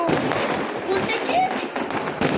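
Firecrackers going off during a New Year celebration, a dense crackling rattle with sharp pops throughout, with people talking over it.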